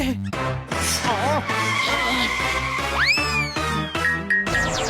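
A cartoon car brakes hard with a squealing, skidding tire effect that sweeps upward and trails off, set against busy cartoon music.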